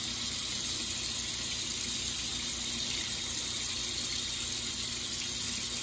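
Water runs steadily from a tap while a badger-hair shaving brush is rinsed out, a continuous close gushing with no pauses or voices.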